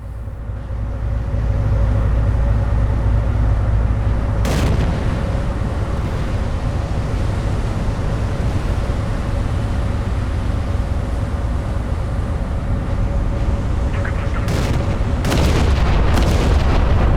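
Naval guns booming in the Battleship Command game, with a few heavy reports standing out over a steady wash of rumbling sea and engine noise.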